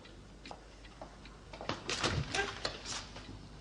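An interior door in a period drama setting is opened, with a few soft clicks and knocks of the latch and handle followed by a brief creak and shuffle, close and quiet.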